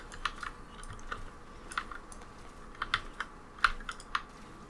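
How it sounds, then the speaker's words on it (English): Typing on a mechanical keyboard during a game: crunchy, clicky keystrokes in irregular bursts with a few sharper presses, close and fairly quiet, with no voice. "It has a very crunchy sound because it's a mechanical keyboard."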